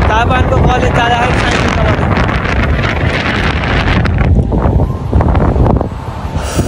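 Wind batters the microphone during a bike ride to college, a loud continuous rumbling buffet that gusts and eases near the end, with a voice talking faintly underneath.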